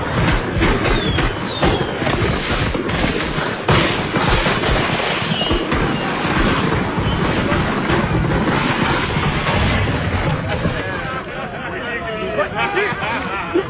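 Fireworks crackle and pop densely for the whole stretch, a continuous loud barrage with a crowd murmuring underneath.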